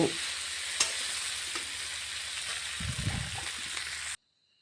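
Small potatoes with salt sizzle steadily in a pan, with a spatula scraping and stirring near the end before the sound cuts off abruptly.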